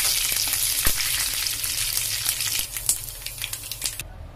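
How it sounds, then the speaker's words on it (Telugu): Hot tempering poured into a bottle gourd and curd chutney crackles and sizzles up close, with sharp pops over a steady hiss that cuts off abruptly near the end. "బాగా చిక్కపట్టని వేగిన తర్వాత ఈ తాలింపుని అందులో పోసేసుకోవాలండి"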